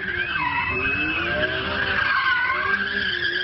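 A car spins in continuous circles at a wedding convoy, its tires squealing in long wavering whines over a steady engine roar, loud and close with no pauses.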